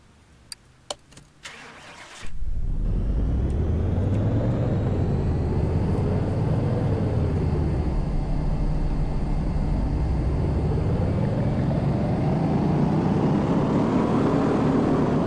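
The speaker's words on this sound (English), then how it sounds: "let's take it to the dyno. What the heck? Dyno is over here. We'll see what we're pushing out for power." A car engine in Car Mechanic Simulator 2018 starts after a few clicks and runs loud and steady on a dyno, its pitch rising and falling through several rev sweeps before climbing again near the end.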